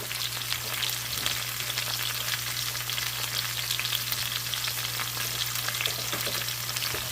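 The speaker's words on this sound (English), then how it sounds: "I guess the sauteing is just the frying." Steady, close sizzling of country fried steak frying in butter in a pan, a dense crackle that runs continuously without pause.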